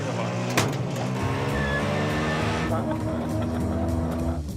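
A small Ape three-wheeler engine catches with a sharp burst, then buzzes and revs up as it drives off, its tone rising and falling close by, with voices talking over it.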